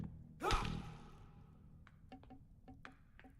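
A single sharp, breathy gasp from the player character of the video game Slasher's Keep, winded after running; it is loud and close, then fades into quiet ambience with a few faint clicks.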